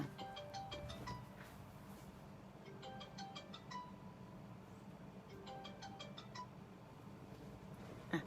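A phone rings with an incoming call during a live online tutoring session, its melodic ringtone sounding in three repeated bursts over a quiet, steady background.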